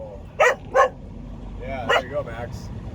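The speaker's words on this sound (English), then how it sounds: "Go ahead and bark at him." A dog barks twice in quick succession close by from inside a truck on a windy stop along I-80 in Iowa, then gives a couple of softer yips while people talk over a steady engine rumble.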